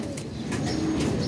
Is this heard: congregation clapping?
no